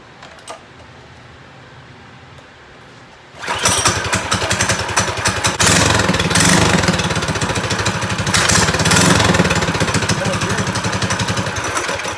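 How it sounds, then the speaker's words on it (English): A hot rod engine cranks and fires after exhaust work with the silencer still loose, bursting from quiet into a loud, rough, rapid-pulsing run that holds steady and close for several seconds. "Let's go ahead and give it a start and see what it sounds like"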